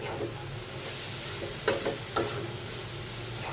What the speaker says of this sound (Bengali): এখন ভালোভাবে এটা কষিয়ে নেব